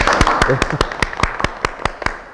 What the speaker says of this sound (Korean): 큰 박수 한번 시작할까요?